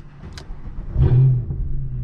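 Mercedes W204 C63 AMG engine revving, a short swell of V8-type rumble rising to a loud peak at mid-clip and easing back to a steady idle, heard close and alone with no talk.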